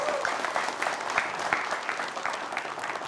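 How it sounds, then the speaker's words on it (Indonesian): A crowd at a high school event in Air Kumbang applauds in a continuous, fairly quiet wash of clapping that holds at an even level for about three seconds. "Tepuk tangan untuk semua ya."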